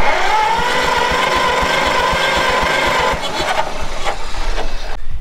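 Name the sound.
1934 Allis Chalmers Model M tractor engine cranking over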